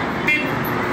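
A car horn toots briefly amid loud, steady street traffic noise, close and continuous, with no speech over it.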